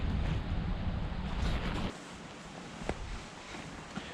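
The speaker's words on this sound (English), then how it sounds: "The wind has really got up" Strong wind buffeting the microphone at a lakeside carp fishing spot on a big pit, a loud rushing roar for the first two seconds that then drops to a softer steady gusting hiss.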